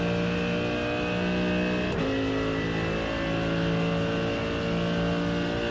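A GT3 race car engine in the iRacing sim at Monza holds a loud, steady high-rev drone with rich harmonics, briefly dropping in pitch around the two-second mark as it shifts, then pulling hard again.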